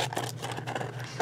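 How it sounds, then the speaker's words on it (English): Scissors snip along the edges of paper in a few close, quick cuts with faint scraping between them. "Or you can just grab your scissors like me, cut away."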